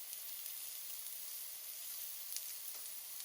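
Vegetables sizzling in a hot skillet for a pepper steak dish, a steady soft hiss of frying with faint crackles, quiet and continuous with no talking.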